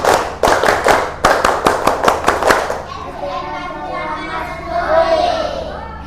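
A class of young schoolchildren performs the Indonesian scout clap, a fast burst of sharp, loud claps in a quick rhythm, then breaks into excited chatter and shouting in a classroom.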